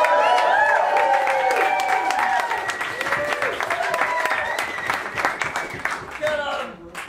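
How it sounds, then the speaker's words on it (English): At a Weston-Super-Mare versus Bristol poetry slam, an audience claps and cheers for the next poet, a steady, loud wash of applause with whoops and shouting voices mixed in throughout. "Big round of applause, please, for Adam Leopard."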